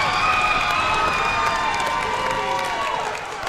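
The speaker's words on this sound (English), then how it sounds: "listen to this crowd behind us, Chris. Yeah, going crazy." A girls' high school basketball crowd roars and cheers as Pembroke takes the lead, a loud sustained wall of shouting and whistling in a gym that tapers off at the end.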